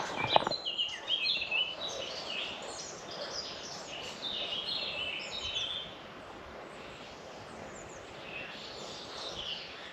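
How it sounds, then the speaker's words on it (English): Birds chirp and sing outdoors at a quiet stealth camping spot, with a cluster of bright calls early on fading to softer, scattered twittering over steady ambient background. "It's just lovely hearing all the sounds of the birds."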